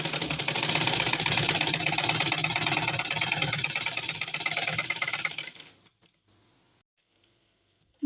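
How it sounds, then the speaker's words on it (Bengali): An electric sewing machine stitches frills onto a child's frock with a steady, rapid, close mechanical whir for about five and a half seconds, then winds down and stops, leaving near silence. "নিচের কুচি সেলাই করব।"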